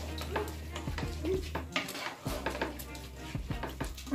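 A spoon scrapes and knocks against a cooking pot as rice is stirred for matar pulao, with repeated clinks and rattles in a loose rhythm over a faint sizzle.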